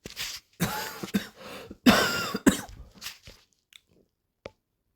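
A woman coughs several times in a row, close and loud, a cluster of harsh bursts with throat clearing between them before things fall quiet.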